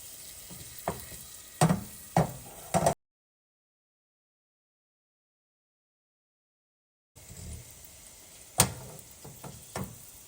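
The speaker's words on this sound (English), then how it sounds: "our sugar and ingredients are bubbling up" Caramel sauce of sugar bubbles in a pot on the stove, a soft steady sizzle broken by a few crisp pops and ticks, with a stretch of silence partway through.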